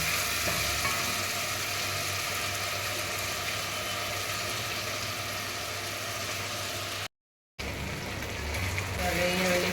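Chopped onions frying in a pan for upma, giving a steady, close, continuous sizzle that runs throughout, broken once by a brief moment of silence before the frying resumes.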